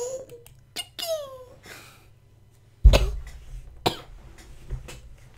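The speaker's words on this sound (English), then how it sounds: "Cough, cough." A single sharp cough rings out abruptly and loud, set among scattered softer vocal bits, small murmurs and quiet breathy sounds with pauses in between.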